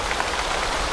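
Heavy rain falls in a bonsai garden as a dense, steady, hissing wash across a wide range, moderately loud and continuous, with no voices.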